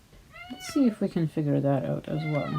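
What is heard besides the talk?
cat meowing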